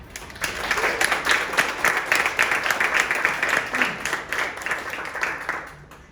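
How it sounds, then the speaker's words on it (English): A crowd at an orchestra banquet applauds steadily for several seconds, a dense wash of clapping that starts abruptly and fades slightly at the end. "so they deserve a round of applause"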